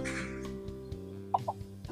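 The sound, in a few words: chickens and roosters clucking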